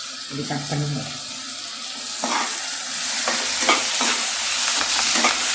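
Cut green chillies dropped into a frying pan, a loud close sizzle that swells into a busy crackling hiss with stirring knocks, with no talk over it.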